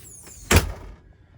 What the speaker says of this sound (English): I just pull that handle down, and that leaves me with the screen door